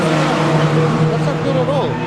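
Race cars running on a circuit during a National Motorsport race in South Africa, a loud continuous engine drone with shifting pitch as cars pass, under a commentator's voice.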